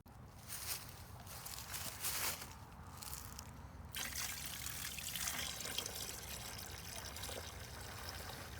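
Antifreeze pours steadily into a Yamaha VX 1100 Deluxe WaveRunner during winterizing, a faint, continuous trickling stream, with a slight shift partway through and no voices.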